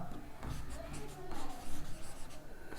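Pen on paper writing out a maths solution, a close, steady scratching and rubbing that continues for a few seconds against faint background noise.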